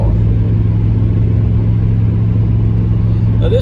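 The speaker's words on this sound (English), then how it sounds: "Really smooth driving car." A 1987 Chevrolet Monte Carlo with an aftermarket transmission in place of its original 700R4 drives along, its engine giving a steady, low rumbling hum with even road noise and no break throughout.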